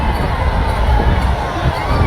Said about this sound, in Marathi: प्रचंड मोठी गर्दी